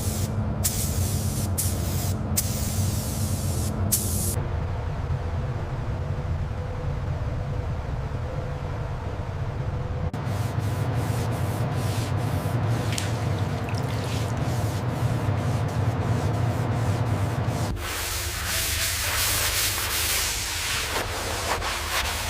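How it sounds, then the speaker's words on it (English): Spray gun laying primer on a 2012 Lamborghini Aventador in a paint booth, a loud steady hiss of slow passes broken by brief pauses and trigger releases, close and continuous with no voices. "Now, with slow, controlled passes, we lay down the primer."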